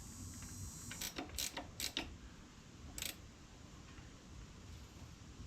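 Oil filler cap with an O-ring being screwed down on a 1979 Honda GL1000 motorcycle, a few short close ratcheting clicks over a steady low background hum.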